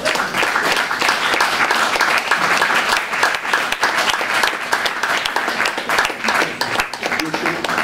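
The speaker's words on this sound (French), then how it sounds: "il faut l'applaudir très très très très bien" An audience bursts into loud, continuous applause after a performance, dense clapping from a packed hall, with voices mixed into the din.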